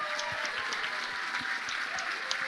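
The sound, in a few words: audience applauding the game teams at a demo night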